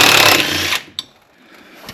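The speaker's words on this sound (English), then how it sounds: "Remove these rack mounting bolts." A power tool loosens the steering rack mounting bolts, with gummed-up threads, on an A70 mk3 Toyota Supra, a loud close rattling burst lasting under a second, then a brief click and quiet workshop background.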